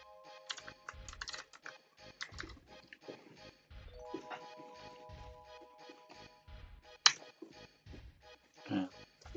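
Soft computer keyboard key presses tap in short irregular clusters, with quiet pauses and a faint steady hum behind them.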